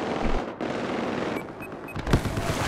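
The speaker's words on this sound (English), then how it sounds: "It appears to be an enemy machine gunner operating north of here." Bursts of rapid machine-gun fire in the video game Battlefield 4, a dense rattling stretch of shots with a brief gap and a sharper louder burst near the end, fairly close and harsh.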